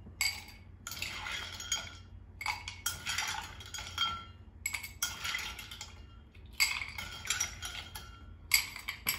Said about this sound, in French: on remplit à moitié son verre de glaçons.